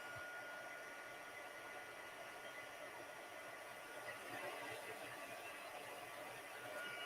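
A heat gun blows on a card for heat embossing, giving a steady, airy, fairly faint hiss that continues without a break and without any speech.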